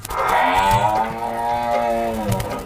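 A single long, deep moo from a nearby buffalo, loud and sustained for a couple of seconds before trailing off.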